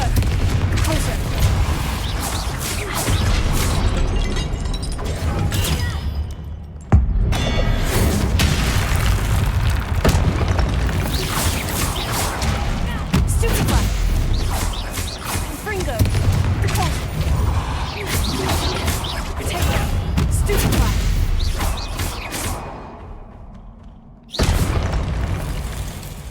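Repeated booming spell explosions and magical combat effects from Hogwarts Legacy, loud bursts and crackles with brief pauses, mixed with spoken spell incantations.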